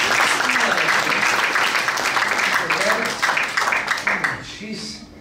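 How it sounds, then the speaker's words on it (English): Audience applause and cheering fill the room at a close-up magic show, loud and dense at first, then tapering off toward the end as a voice comes through. "Give her a big round of applause."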